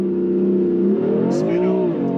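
A tuned BMW M4 with the S55 engine and a plug-and-play stage 1 tune launches hard on cold, frozen tires, its exhaust droning loud and rising in pitch as it pulls away.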